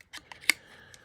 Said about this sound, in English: Probably those scissors are too big.